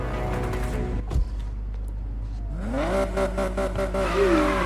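A Nissan GT-R engine in the video game Need for Speed Payback: a deep, steady drone that swells into a rising, revving whine with shifting pitch in the second half, loud and close, with no voices.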